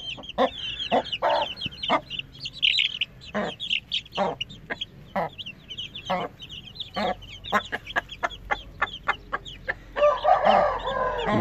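One-week-old Indian chicks chirp and peep in a rapid run of short, sharp calls while being fed, the calls close and fairly loud, with a busier burst near the end.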